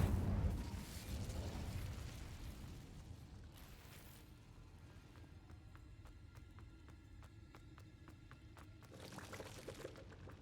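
Incendio fire spell cast in the video game Hogwarts Legacy, a loud whooshing burst of flame that fades into a crackling, sizzling rumble with a brief swell near the end, no talking.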